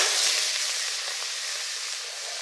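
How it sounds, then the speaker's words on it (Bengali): Cleaned crabs fry in hot oil in a kadai over a village clay stove, a soft, even hiss of sizzling oil that fades slightly, with no voices. "আমি কড়ার মধ্যে তেল দিয়ে দিয়েছি, ছাড়িয়ে রাখা কাঁকড়াগুলো তেলের উপর দিয়ে দিচ্ছি।"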